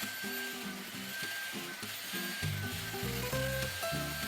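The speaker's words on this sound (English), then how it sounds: "I'm going to turn the machine on, and first I'm just going to pull back to extract the excess first" A Shark StainForce carpet cleaner runs steadily while extracting liquid from carpet, giving a continuous whirring motor hum with gurgling, sloshing suction, with no talk.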